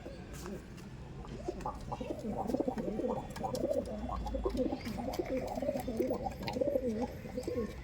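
Pigeons in a loft coo steadily, a dense, layered murmur of throaty calls from several birds close by, with faint voices at times underneath.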